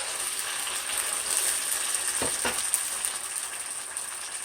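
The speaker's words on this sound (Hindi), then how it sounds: "अब हम इसको भून लेंगे अच्छी तरह से।" Onion and tomato paste fries in a pan for an egg masala curry, a steady broad sizzle running throughout with a couple of brief stirring scrapes near the middle.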